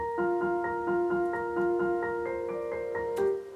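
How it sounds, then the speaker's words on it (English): Piano counter melody split across high and low octaves panned left and right, repeating bright, ringing notes in an even rhythm, clear and unaccompanied. "And then we have a little bit of like a counter melody on the piano here."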